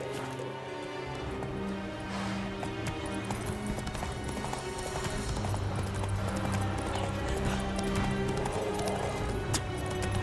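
Hooves of Roach, Geralt's horse in The Witcher 3, clip-clop at a steady, rhythmic pace over continuous game music and ambience, with the beat holding evenly throughout.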